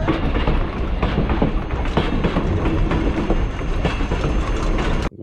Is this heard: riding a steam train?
yes